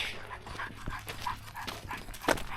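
A dog pants steadily at a desert regional park campground, with quick, close breaths in a repeating rhythm and a faint whimpery edge, no talk heard.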